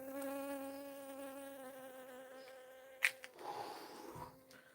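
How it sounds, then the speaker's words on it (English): A bee buzzes close to the microphone outdoors, its whining drone steady and near for a few seconds, then interrupted by a sharp knock and rustling as the buzz fades. "Get out of here, bee."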